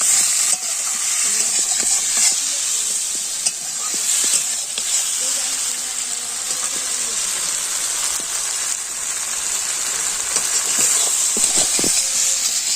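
Eggplant sautéing in an oil-coated pan for a dried fish curry, a continuous soft sizzle and hiss with occasional clicks of a stirring spoon against the pan, steady and close.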